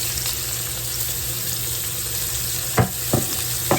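Onions sizzle steadily in hot bacon grease in a pan, a continuous close frying hiss, with a few short scraping stirs near the end.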